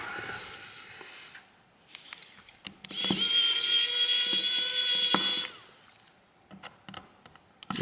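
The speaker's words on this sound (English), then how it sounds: "So now we got to get all these screws out." An electric screwdriver takes the screws out of a Motorola Edge 2024 phone, giving a steady high whine for about two seconds. Clicks and small handling taps come before and after it.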